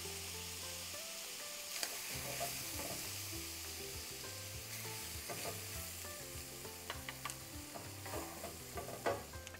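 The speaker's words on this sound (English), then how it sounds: "Now we're gonna stir and cook for about a minute until the flour is fully absorbed." Sausage and flour cook together in a pan over medium-low heat while being stirred, a soft continuous sizzle with scraping and clinking strokes of the utensil, close and fairly quiet, with no voices.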